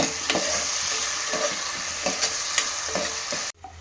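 Green chillies frying in hot oil with salt in a pan for a mutton and fenugreek-leaf curry, a steady close sizzle broken by repeated spatula scrapes and stirs, cutting off abruptly near the end.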